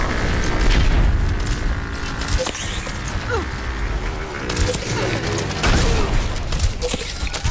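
A grenade goes off in a team shooter video game with heavy, booming blasts amid constant gunfire and mechanical effects, loud and dense throughout, with game voices mixed in.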